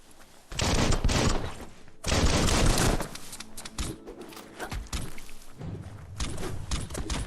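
Gunfire from Biomutant erupts in dense loud bursts, two long volleys of rapid shots followed by scattered thumps and shorter bursts of fire.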